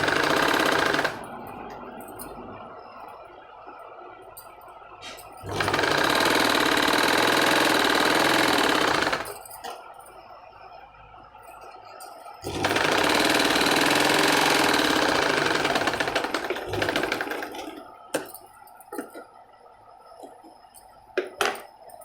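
A sewing machine stitches a drawer, running in two long loud bursts of rapid, steady whirring separated by quieter pauses filled with small clicks and handling sounds.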